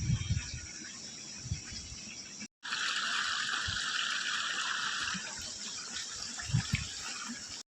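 Irrigation water flows through a farm field, a steady close trickling rush that continues with a brief break, alongside faint insect-like buzzing.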